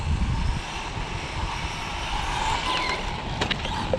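A brushless ARRMA Infraction 4S RC car on a parking lot whines at full throttle, a continuous high-pitched motor drone with rising tones, moderately loud throughout.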